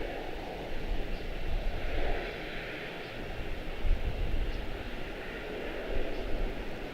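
An airliner in retro livery taxis to its parking spot at Charlotte-Douglas International Airport, a steady jet engine rumble and whine holding at moderate distance throughout.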